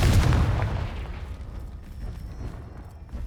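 A Confringo fire spell blast in Hogwarts Legacy, one loud booming explosion at the start that rumbles and fades into a low crackling tail.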